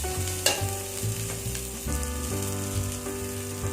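Small onions sauté in oil in a pan for a keerai kootu, with a steady close sizzle and occasional scrapes of the stirring spoon, accompanied by a faint background hum.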